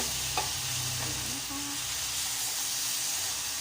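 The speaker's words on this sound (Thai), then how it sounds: "กระจายเส้นนิดนึงนะคะ" Pad thai noodles being stir-fried in a pan, festival street-food style, with a steady close sizzle and hiss and occasional stirring scrapes throughout.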